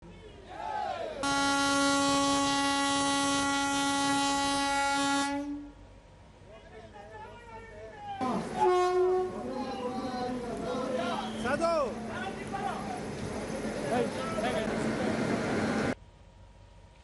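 Wodeyar Express train at Ramanagara station sounds a long, loud steady horn blast, then after a pause rumbles and clatters close by with more horn, under a background of voices.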